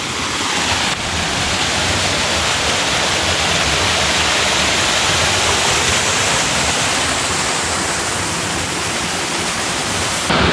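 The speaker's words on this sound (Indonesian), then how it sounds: "Akhirnya sampai juga di air terjun" Steady, powerful roar of the nearby Watu Talang waterfall on the slopes of Merbabu, Boyolali, a dense hiss of crashing water holding constant throughout.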